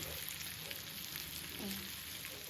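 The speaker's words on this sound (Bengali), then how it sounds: "ঢেকেই ভাজবো।" Shawarma-style fried chicken sizzles and crackles steadily in a covered pan, a close, even frying hiss with faint soft knocks and no talking.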